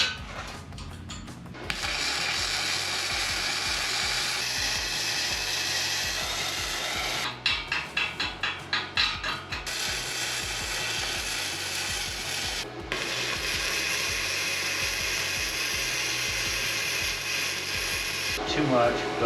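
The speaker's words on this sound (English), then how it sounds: "So let's get to finish welding this." Flux core welding on a vehicle bumper, a loud steady crackling buzz running almost continuously, broken by brief pauses and a short burst of sputtering pops midway.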